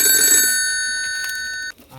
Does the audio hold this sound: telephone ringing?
yes